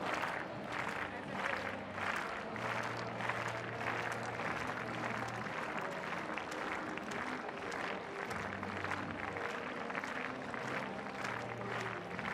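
A stadium crowd claps in steady rhythm to cheer on a pole vaulter at a European Team Championships meet, the clapping sustained and distant across the stands, with low tones and murmuring beneath.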